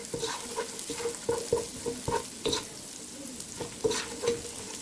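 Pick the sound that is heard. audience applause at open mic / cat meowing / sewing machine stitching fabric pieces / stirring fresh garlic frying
stirring fresh garlic frying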